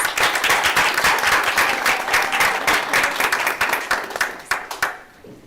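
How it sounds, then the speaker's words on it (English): Applause from an audience at a school board meeting for the high school's top reader, loud and dense for about five seconds, then thinning into a few scattered claps as it dies away. "So let's give her a round of applause"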